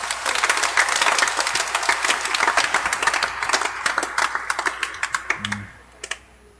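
A church congregation at a Catholic homily claps loudly: a burst of dense, energetic clapping that thins into scattered individual claps before dying away, with a brief voice near the end.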